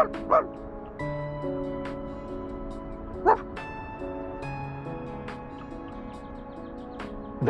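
A puppy yips and whimpers in two short bursts among a crowd's murmur and a steady tonal hum, the cries sharp and fairly close.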